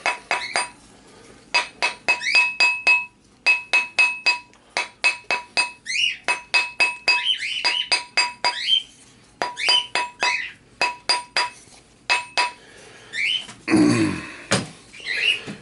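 A coin ring is tapped down onto a metal mandrel with a hammer, making a long series of sharp, ringing metallic clinks in short bursts and steady rhythms, close and clear, with a scuffing rustle near the end and no speech.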